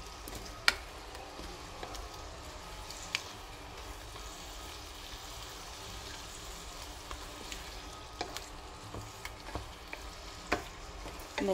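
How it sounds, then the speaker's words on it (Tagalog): Butter prawns with bagoong shrimp paste sizzle in a pan, a quiet, steady frying hiss with occasional small pops and ticks throughout, no voices. "Nilhayaan lang natin siya dyan hanggang maluto na yung ating prawn."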